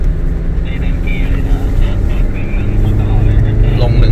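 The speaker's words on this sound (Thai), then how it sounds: "ลง1ตลอดครับ1รอบเกือบชนเส้นแดงตลอดเลย" A car descends a steep mountain road to Phu Thap Boek in first gear, engine held high near redline in a loud, steady drone, with people talking over it inside the cabin.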